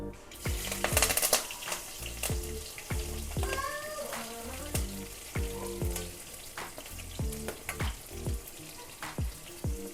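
Mustard seeds frying in hot oil give a steady sizzle, with quick sharp pops and crackles recurring throughout, close by.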